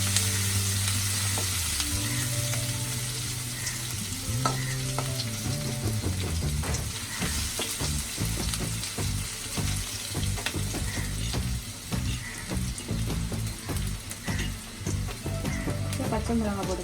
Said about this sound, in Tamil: இப்போ சின்ன வெங்காயத்தை போட்டுக்கலாம்.